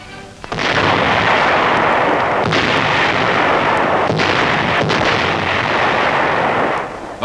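Heavy Krupp artillery guns fire shells toward Germany in a wartime battle, a loud, dense roar of cannon blasts with sharp reports near the half-second mark and again around two and a half, four and five seconds, sustained and close.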